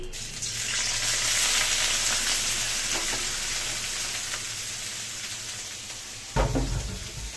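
Boiled vegetables sizzle loudly in hot oil in a pan, a continuous bright frying hiss with occasional stirring, then a brief low thump near the end.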